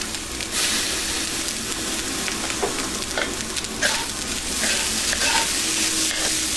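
Chicken sisig sizzles loudly in a pan as it is stirred, with Knorr liquid seasoning added. A dense, constant frying hiss is broken by repeated scraping strokes of the utensil, close up and with no talking.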